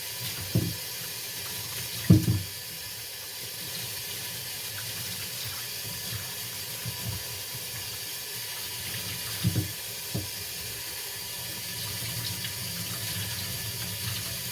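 Hot water running steadily from a tap in the background during a beet and carrot harvest, with a few knocks and clunks over the continuous flow.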